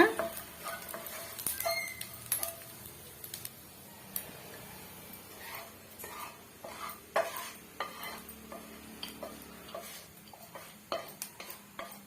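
Roasted grated coconut being stirred into rice in a kadai, with a spoon scraping and clinking against the metal pan in irregular bursts over a faint, steady sizzle.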